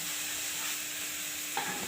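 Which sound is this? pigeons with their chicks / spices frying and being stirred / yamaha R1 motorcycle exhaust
spices frying and being stirred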